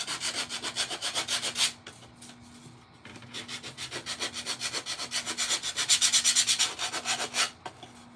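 Big power sander worked across the surface of a rustic wooden ghost craft, a loud rough rubbing rasp in rapid back-and-forth strokes with brief pauses, a steady motor hum underneath.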